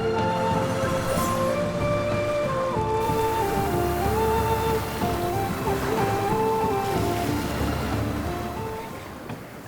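A boat heading north through open ocean waves, with a steady rush of water and wind over a droning, tonal hum, loud and continuous throughout.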